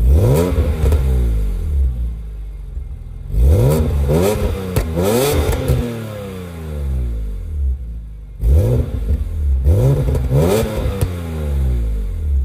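A BMW Z4M Roadster engine revs hard through its four exhaust outlets, loud and close, in three separate bursts of climbing and falling pitch with brief idle gaps between them.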